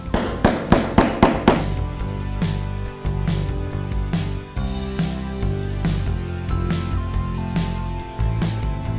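A steel leather punch is hammered hard into a handmade book, with several sharp, rapid strikes at the start followed by more spaced impacts over a steady musical background.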